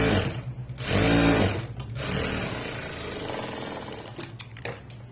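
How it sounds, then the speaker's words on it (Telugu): An electric sewing machine top-stitching through fabric lining, running in loud bursts of rapid, even stitching that stop and restart, close to the microphone with no talk. "మళ్ళీ ఇలా ఓపెన్ చేసుకుని టాప్ స్టిచ్ వేసుకోండి లైనింగ్ మీద పడేటట్టు వేసుకోండి"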